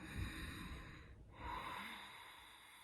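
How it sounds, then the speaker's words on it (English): Two slow, breathy airy exhales of ujjayi yoga breathing with a soft hiss, close and quiet, with a brief pause between them. "what I do love about the ujjayi breath is that it creates the sound"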